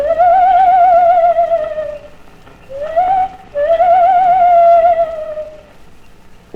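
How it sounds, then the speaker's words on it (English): An owl's hooting from a children's record: long, wavering, whistle-like hoots sounding clear and loud, with a short gap between calls and no talking. "It was an owl."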